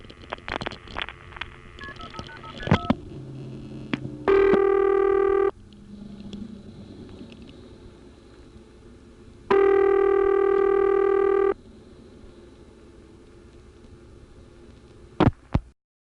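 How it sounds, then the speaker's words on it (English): Telephone call switched through a 1976 NX1 crossbar exchange in Belvedere, New Jersey: faint clicks and line hum, bursts of tones, then two long steady ringback-style tones separated by quiet, ending with sharp clicks. "Here's another call. This one is to a working number in the 4000 group."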